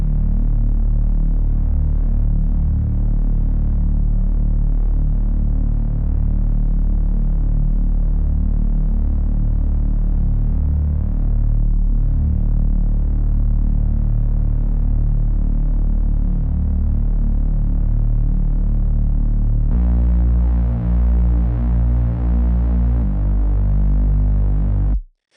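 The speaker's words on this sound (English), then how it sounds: "Reese's, again, super simple, nothing too crazy, just a sawtooth here, another sawtooth here. We're doing some unison detune" A thick, steady Reese bass synth built from two detuned sawtooth waves with unison detune and the highs rolled off, droning loudly and continuously with a slow throbbing phase, shifting pitch near the end.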